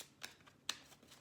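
Quiet riffling of tarot cards being shuffled, a few soft crisp bursts close up.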